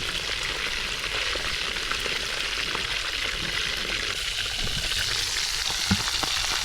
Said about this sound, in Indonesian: Ini ikannya gue goreng, dan ini yang masih ada sebagian.